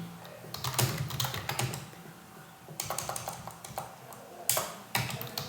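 Fast bursts of keystrokes on a computer keyboard, clustered clacking in three short runs with brief pauses between, close and fairly loud.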